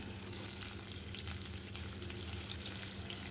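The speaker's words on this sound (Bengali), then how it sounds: "আলু ফুলকপি আমি একসাথেই ভেজে নিচ্ছি" Cauliflower and potatoes frying together in oil and ghee, a continuous dense crackling sizzle close by, with faint stirring underneath and nobody talking.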